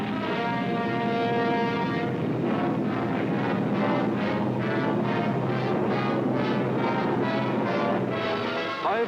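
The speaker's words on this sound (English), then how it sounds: "German bombers and Messerschmitt fighters roared over the English coast." German bombers and Messerschmitt fighter planes roar low overhead along the English coast, a continuous heavy wartime engine drone with pulsing, throbbing waves lasting throughout, loud and close with no voices.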